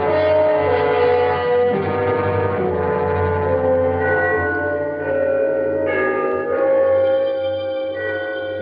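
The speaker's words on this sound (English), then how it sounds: "The bells of Trinity had just run the 3/4 hour." Trinity church bells ring the three-quarter hour in a 1944 radio drama, loud overlapping bell tones with long sustained hum and resonance, heard alone and close throughout.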